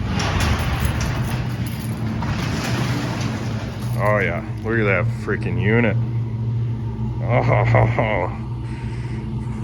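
A Chevrolet Silverado GMT800 regular cab truck engine runs with a steady low idle rumble, close by and continuous, while someone talks excitedly over it.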